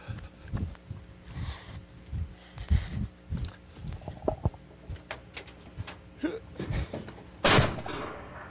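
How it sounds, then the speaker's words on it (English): Door of a 1986 Chevrolet C10 square body pickup shutting, heard as a series of dull thunks and knocks followed by one sharp louder slam near the end, fairly close. "that is the sound of a 1986 Chevrolet C10 square body door closing"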